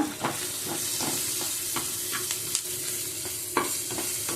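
Garlic and spices fry in a pan for a Mangalore-style okra curry, giving a steady close sizzle broken by occasional scraping stirs and light clinks, with no voices.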